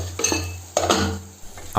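Metal clinks and scrapes of a pot of duck and ash gourd being stirred, then a lid set on, in sharp bursts close by with no speech.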